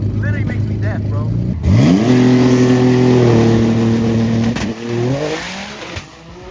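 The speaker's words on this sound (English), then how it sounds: "Every Gtr with the exhaust right here just literally makes me deaf" A loud Nissan GT-R engine with an aftermarket exhaust revs hard, its exhaust roaring and climbing in pitch before dropping back, with a blip of revving near the end.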